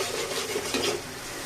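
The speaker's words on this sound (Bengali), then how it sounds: "এখন এটাকে একটু কষিয়ে নিব।" Onion and masala being sautéed in a pan for a Bengali catfish and potato curry, a brief steady scraping stir over a soft broadband sizzle, close and alone with no talk.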